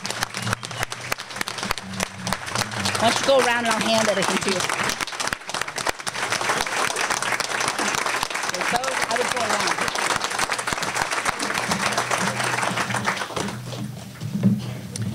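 Audience applause for young students at an American Legion ceremony, steady dense clapping running nearly the whole stretch, with people talking over it at close range.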